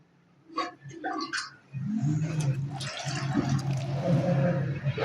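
Water poured into a pan of curry to thin it into gravy, a steady close liquid splash and gush running for several seconds after a brief stretch of talk at the start.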